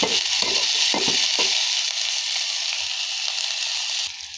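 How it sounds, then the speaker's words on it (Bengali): Loitta dried fish frying in oil, a steady loud hiss and sizzle with a few clattering stirs at the start, close up and uninterrupted by speech. "এখন এটা তেলে ভাজলে গন্ধটা চলে যাবে"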